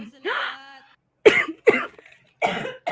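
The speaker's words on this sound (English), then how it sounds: "Cough is acting up again." Person coughing during a live chat stream, several harsh, close coughs in quick bursts with a brief throaty sound at the start, loud and up front.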